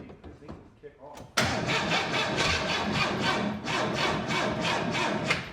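A 1923 Ford Model T engine cranks briefly in a few uneven turns, then fires and catches with a sudden loud, rough running that continues close by and unsteady to the end.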